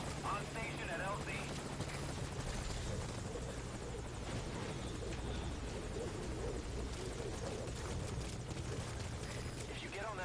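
A helicopter in the video game Metal Gear Solid V drones steadily with a low rotor thump and broad whooshing noise, loud and continuous throughout, with voices speaking over it.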